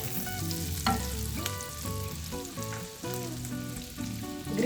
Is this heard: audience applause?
no